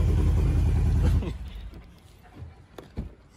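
Ford F-150 truck exhaust, a deep loud rumble that cuts off abruptly after about a second, followed by quieter scattered noises and thumps.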